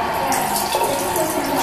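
A bathroom sink faucet in a new São Paulo apartment runs with a steady, close hiss of flowing water, while someone talks over it.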